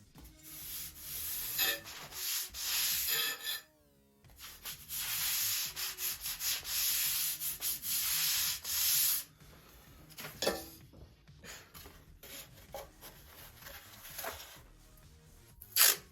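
Sandpaper rubbing back and forth along the leading edge of a balsa-sheeted P-40E Warhawk model airplane wing, putting a slight bevel on it, in close, fairly loud strokes with brief pauses between bursts.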